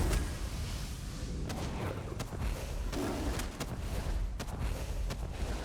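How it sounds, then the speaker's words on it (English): Exploding mushrooms in the fantasy game Elder Scrolls Online go off as a series of sharp booming bursts over a steady low rumble of game ambience, loud and close. "Exploding mushrooms."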